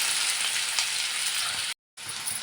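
Onion sizzles and fries in hot oil in a pan for a dried bombil dish, a close, steady crackling hiss broken by a brief moment of silence.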